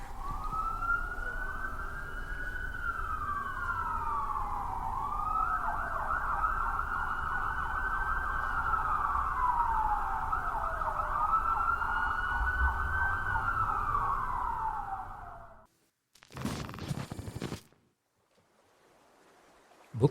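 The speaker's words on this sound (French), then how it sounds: "ils fuient tous les trois au son des sirènes de police" Police sirens wailing loudly and continuously, rising and falling in long sweeping cycles over a low rumble of traffic for about fifteen seconds before cutting off abruptly, followed by a brief burst of other noise.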